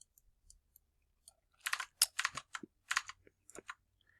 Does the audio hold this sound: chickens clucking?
no